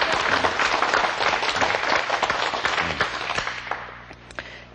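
An audience in a math lecture studio bursts into loud, dense clapping that sustains for several seconds, then thins and fades out near the end.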